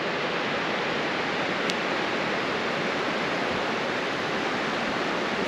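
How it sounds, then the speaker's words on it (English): A river flows steadily in the early morning at a riverside campsite, a continuous broad hiss of moving water at even volume with no voices or other sounds breaking through. "The sound of the river first thing in the morning, so nice."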